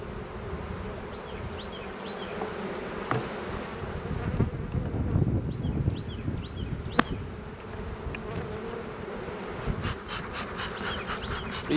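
Steady buzzing of many honey bees close by at a hive in chilly February wind, a dense droning hum throughout with gusts of wind noise rumbling underneath.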